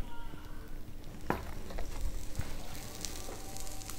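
Oil sizzles faintly on a ragi masala dosa cooking on a griddle, a soft continuous crackle with a few small clicks.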